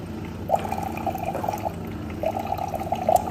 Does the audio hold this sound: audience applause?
no